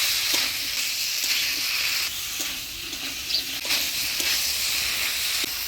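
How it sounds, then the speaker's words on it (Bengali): Jackfruit and fried potatoes cook with spices in a pan, giving a steady, close sizzle with faint scrapes and clicks of stirring throughout. "আলু দিয়ে কাঁঠালের সাথে ভালো করে কষিয়ে নেব।"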